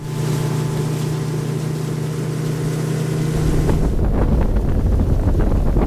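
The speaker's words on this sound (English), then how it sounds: "We're dealing with a little wind today" Wind buffeting a microphone aboard a fishing boat out on the water during a fishing tournament, a loud steady rumble that turns heavier and gustier partway through, with a faint engine drone underneath.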